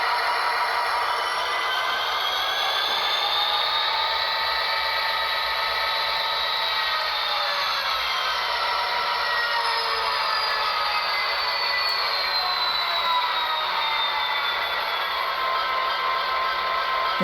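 An Athearn Genesis SD70M model locomotive with a Tsunami2 DCC sound decoder runs with a loud, steady mechanical whine and engine drone whose pitch shifts slowly as it notches up, with no talking.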